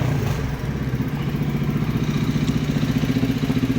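An engine with a newly replaced starter relay runs with a steady, close, pulsing rumble at idle throughout.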